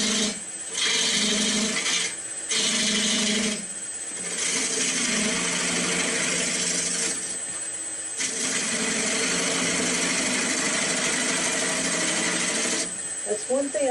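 A wood lathe turning a ball bat, with the cutting tool held like a skew and shaving the spinning blank in a steady, continuous rasping hiss broken by short pauses as the tool is lifted.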